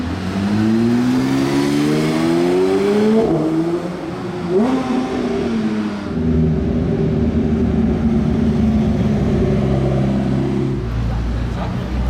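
McLaren 600 LT supercar accelerating past, a loud engine roar whose pitch climbs through the gears then drops as it passes, followed by more engine rumble and voices talking nearby.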